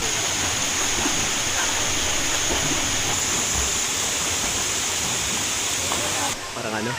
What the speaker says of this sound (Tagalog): Yung tunog ng agos ng tubig.